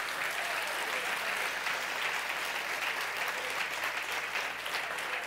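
A church congregation applauds steadily throughout, a dense wash of many hands clapping at a moderate distance, even and unbroken, with no voices standing out.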